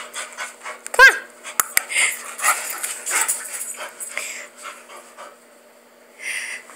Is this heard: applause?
no